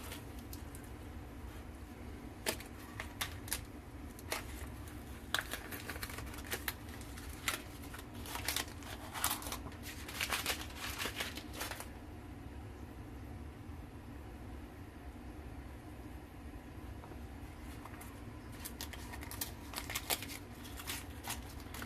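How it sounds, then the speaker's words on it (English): Painter's-style masking tape is peeled off an EVH 5150 amplifier, giving scattered crackling, ripping bursts over a steady low background hum, close and fairly quiet, with quieter stretches between pulls. "This tape removes nice and easy"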